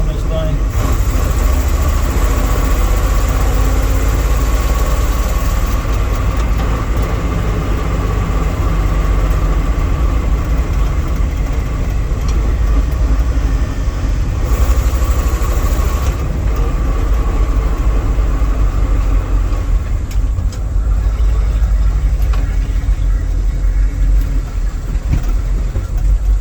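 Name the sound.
1979 Dodge W300 Club Cab engine running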